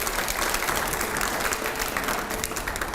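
Loud, sustained applause from a studio audience during a televised Hindi interview, a dense steady wash of clapping with no talk over it.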